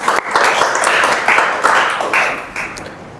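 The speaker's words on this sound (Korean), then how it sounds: "우리 박수 한번." A church congregation breaks into dense, steady clapping that carries for a few seconds and slowly tapers off, filling the room.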